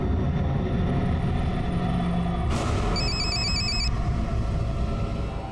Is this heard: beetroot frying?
no